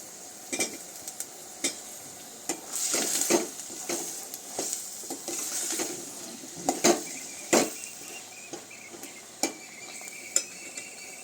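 Potatoes cook in a pan over a low sizzle while a spoon stirs them, giving irregular sharp knocks and scrapes against the metal at close range.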